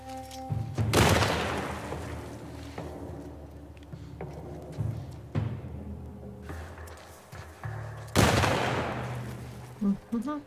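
Gunfire from The Last of Us during a firefight, with several loud, sharp shots spaced apart across a busy game soundscape, plus occasional quieter thuds and some background activity between the blasts.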